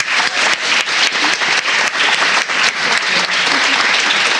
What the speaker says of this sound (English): So if we could give our students another round of applause.